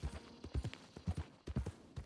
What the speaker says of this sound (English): My horse is freaking out a little bit.